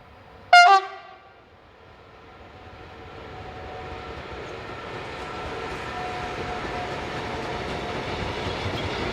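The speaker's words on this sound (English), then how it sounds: "Eurocargo Rail's 186311 and 186165 are next to appear, again heading north" Two Eurocargo Rail locomotives, 186311 and 186165, pass heading north. A loud horn blast opens the sequence, then the rolling rumble of the train builds and holds steady as it goes by, with faint rhythmic wheel clatter.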